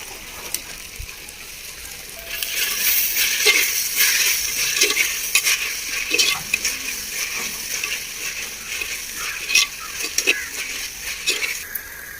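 Fresh mint leaves fry in a pan for a chicken biryani, a close, steady hiss and sizzle that swells after two seconds, with occasional scraping knocks from a stirring spoon.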